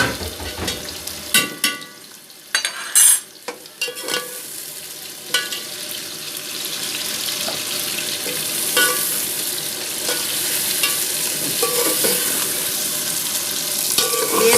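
Half a kilo of chopped onions dropped into hot oil with garlic in a pan, opening with a few clattering stirs and then settling into a steady, growing sizzle of frying that carries on alone.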